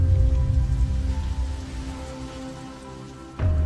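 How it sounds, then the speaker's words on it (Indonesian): Heavy rain in a film scene at an abandoned factory pours steadily onto surfaces, loud and close, with a low droning hum underneath and a sudden burst near the end. "Setibanya mereka di sana, hujan pun tiba."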